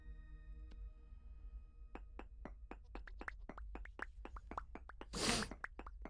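A chisel and hammer strike stone blocks in the Vintage Story game, giving a steady run of sharp, evenly spaced clinks, quiet overall, with one brief louder crumbling burst near the end as a block breaks.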